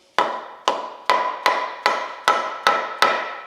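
Eight sharp, even knocks land at a steady pace, a plastic hammer or rubber mallet tapping a seal into place. Each blow is close, crisp and alone, with a short decay.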